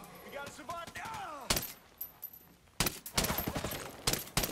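Gunfire from the video game Ghost Recon Breakpoint: after a brief spoken line, a single loud shot rings out, then a rapid flurry of close, sharp bursts follows in quick succession.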